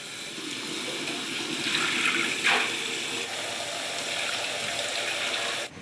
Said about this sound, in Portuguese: ele parte para 2 lavagens, só com água para tirar o cisco